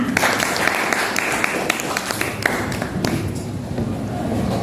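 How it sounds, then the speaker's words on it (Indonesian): A class of students applauds group 1 during a lesson on making liquid organic fertilizer from fruit, with scattered claps and taps running steadily through the room alongside light background voices. "Untuk kelompok 1, kasih tepuk tangan."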